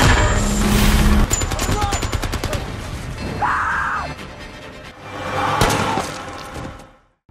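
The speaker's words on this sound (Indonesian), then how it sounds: "salah satu tank rombongan mereka ditembak oleh sebuah RPG dari arah samping." War film battle scene with an RPG striking a tank, rapid bursts of gunfire and clattering impacts giving way to a heavy blast and rumbling debris, loud and dense, with a brief swell before fading out.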